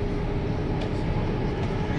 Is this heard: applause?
no